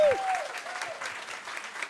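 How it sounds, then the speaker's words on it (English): An audience gives a round of applause for a group of women at an event, a close, steady patter of clapping hands that runs throughout, after a brief tone and a voice at the very start. "round of applause for these ladies."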